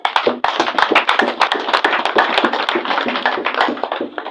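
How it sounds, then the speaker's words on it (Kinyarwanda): Many hands clap rapidly and energetically in a steady, dense patter, loud and close, without any talking. "Duhuze ibiganza dukomeye Yesu amashyi."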